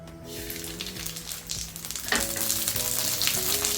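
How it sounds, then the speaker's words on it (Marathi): Fifty grams of mustard seeds fry in hot oil for a homemade red chilli spice masala, giving a steady, close sizzle with small crackles and a tonal background hum. "मोहरी म्हणजेच राई पन्नास ग्रॅम छान तळून घेते"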